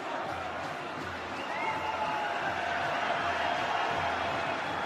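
Football crowd at a Brazil versus Wales friendly in 2006 chanting olé, a broad distant swell of many voices rising and holding, with no commentary over it.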